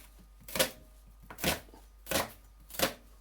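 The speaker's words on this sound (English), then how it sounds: "Diced onion." A kitchen knife chops through an onion on a cutting board in four evenly spaced, crisp, close knocks, each a sharp, short cut against the board in a quiet room.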